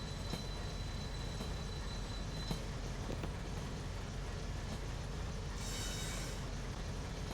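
Steady train rumble from a Train Sim Pro USA locomotive run with MNWP 607, broad continuous rolling noise and faint wheel and rail clatter, no talking over it.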